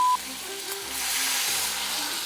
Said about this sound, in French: Je vais mouiller avec un verre de blanc, de vin blanc